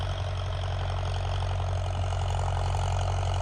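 A farm tractor engine idles steadily at a sugarcane farm, a constant low rumble with a fixed rhythmic throb and no break, loud and close, with no talking.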